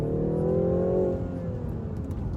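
A 2019 BMW 330i xDrive with its twin-power 2-liter four-cylinder engine revs up, a steady, loud engine tone climbing in pitch for about a second and then easing off as it settles into a sustained drone.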